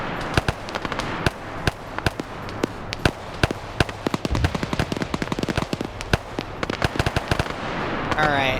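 Rapid machine gun bursts in an online multiplayer PvP match, loud sharp cracks in dense rattling strings with scattered single shots, a voice talking underneath.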